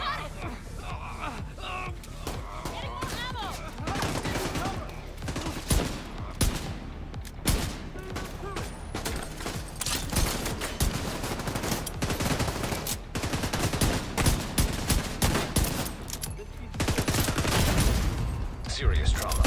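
LMG gunfire from a sustained magazine dump in the video game The Division 2: dense, rapid bursts and heavy volleys run nearly nonstop and loud, with voices and game effects mixed in.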